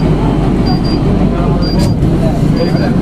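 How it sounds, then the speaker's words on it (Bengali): A steady, loud rumble inside a moving Kolkata Metro train with faint whining tones, while people talk over the noise. "মেট্রো ছেড়ে দিয়েছে"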